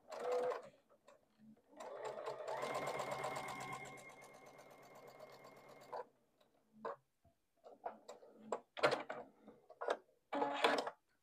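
A sewing machine stitches fabric pieces for a Crown of Thorns quilt block, running in a steady rapid clatter for several seconds and then in short bursts and stops, with faint handling noises between runs.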